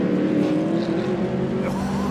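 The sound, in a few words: Mercedes GT3 race car driving past on track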